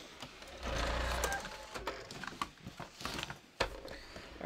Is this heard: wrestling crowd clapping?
no